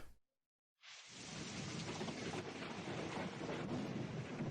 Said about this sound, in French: Il pleut. Il pleut là dehors.